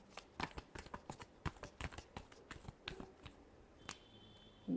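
Tarot cards being shuffled by hand, a quick irregular series of crisp riffling snaps and taps, close and fairly quiet, without speech.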